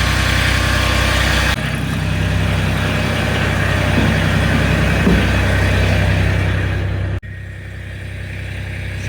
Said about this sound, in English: that tractor started up as quick as that.